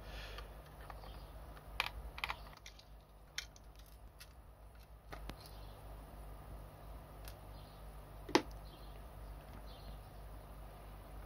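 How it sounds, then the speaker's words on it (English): Small screws are backed out of an original Game Boy DMG plastic case, giving faint scattered clicks and ticks with a few sharper snaps over a quiet room hum. "we'll take off the four screws here and the two screws located behind the batteries"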